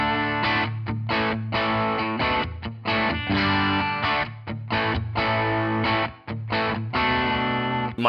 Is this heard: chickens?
no